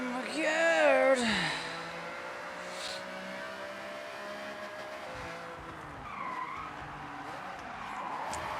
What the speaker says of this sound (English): My brakes locked up.